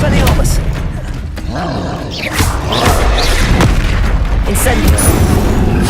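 Spell combat in Hogwarts Legacy on PS5, an Expelliarmus cast amid a battle, with loud booming impacts and bursts layered over continuous game noise, while a voice talks over the action.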